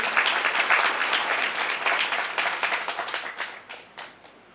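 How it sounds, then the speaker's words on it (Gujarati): Audience at a Shrimad Bhagwat Katha religious gathering in Ankolwadi, Gir, breaking into loud, dense applause that holds strong for a few seconds, then thins into scattered claps and fades out. "જોરદાર તાળીઓથી વધાવશું."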